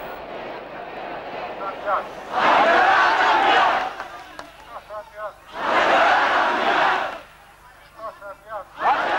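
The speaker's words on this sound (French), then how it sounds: "c'est la ville tout entière qui s'arrête et se masse pour acclamer" A city crowd cheers and acclaims an arriving figure in swelling roars that rise and fall in waves, with someone talking in the gaps between bursts.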